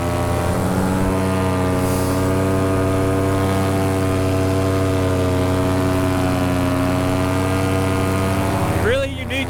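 Paramotor engine and propeller droning steadily in flight at 2,000 feet above tall desert dunes, a loud, continuous buzzing hum with strong harmonics that holds through the whole stretch, with a brief rustle near the end.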